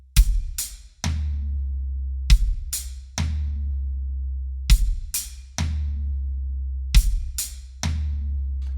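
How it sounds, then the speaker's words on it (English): Acoustic drum kit triplet fill played four times over: hi-hat with bass drum, then a left-hand stroke, then a medium tom. Each three-note group rings clearly and closely, with a short pause between repetitions. "Then for beat 3, we're back on the hi-hat with our right hand with the bass drum, followed by a left hand,"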